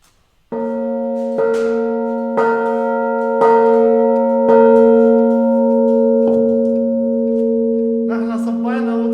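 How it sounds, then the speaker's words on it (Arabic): Bells in the church tower of the Lebanese village of Beit Chabeb ring loud and close, with strikes every second or so that hold a steady ringing tone, then brighter clangs near the end. "خلينا ندق الجرس"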